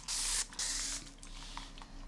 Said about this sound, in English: I'm also gonna spray a little tiny bit of alcohol on it before it dries completely.